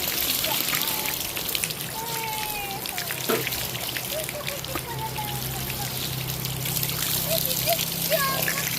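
Warm, sulfur-smelling spring water flows and trickles steadily at Pugo hot spring, a close, continuous babble with scattered splashes. Voices talk faintly in the background.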